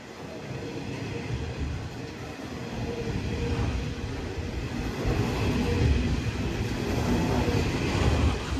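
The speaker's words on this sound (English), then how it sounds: "I presume this coal train came from the Upper Hunter region through Sandgate and Waratah" A long coal train rolls steadily past on the line at Broadmeadow in Newcastle, its wagons producing a continuous loud low rumble and rattle that swells slightly as it goes by, with no talk over it.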